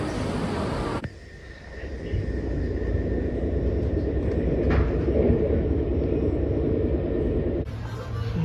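A Swiss passenger train running, heard from inside as a steady rolling rumble with rattling that holds for most of the stretch, quieter at the very start and end.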